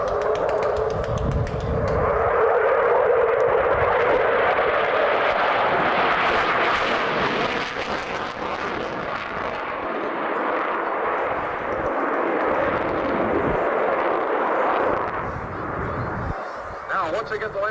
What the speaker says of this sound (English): the Tomcat will approach at 125 miles an hour